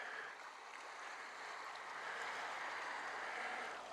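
Small waves lap against the shore of Ullswater lake, a steady, soft wash of water close by that swells slightly and carries on without a break, with no voices.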